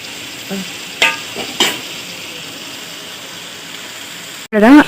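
Cabbage stir-fried in a pan gives a soft, steady sizzle with two sharp utensil clinks against the pan, then a voice briefly joins at the end.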